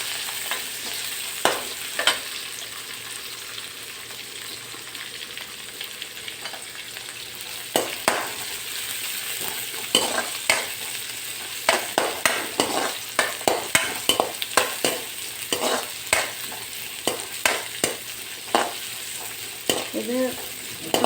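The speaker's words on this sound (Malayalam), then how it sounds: "നമുക്ക് ആദ്യം ഇതിലേക്ക് സബോളയും പച്ചമുളകും അരിഞ്ഞത് ഇട്ട് കൊടുക്കാം. അതൊന്ന് വഴറ്റി കൊടുക്കാം." Sliced onions and green chilies sizzle steadily in hot oil, with repeated scraping stirs that pick up into a quick rhythm toward the end, close and fairly loud.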